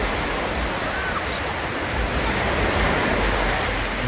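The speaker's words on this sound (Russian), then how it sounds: "Не хватало звука океана в предыдущем видео." Ocean waves roll in on Waikiki beach in Hawaii, a broad, steady roar of surf that stays loud and even throughout, with no speech.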